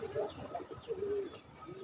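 Pigeons coo softly at a loft where pairs are laying eggs and raising squabs, two or three moderately quiet calls over a faint background.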